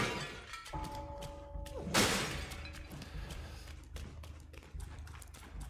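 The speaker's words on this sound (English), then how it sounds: "Just smashing all the pots." Clay pots smashed inside Black Myth: Wukong, one sharp burst of shattering breakage standing out over a low, steady game soundscape with faint taps and footsteps around it.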